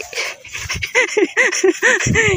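A dog panting and whimpering close by, rhythmic breathy huffs mixed with short high whining yelps, loud and continuous for a couple of seconds.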